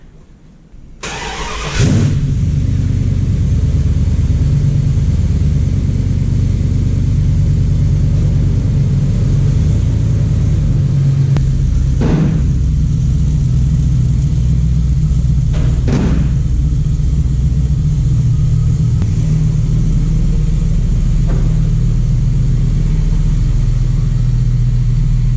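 A 1978 Plymouth Volare kit car starts up and keeps running, its engine a loud steady close rumble for over twenty seconds with a few brief clunks along the way and no voices.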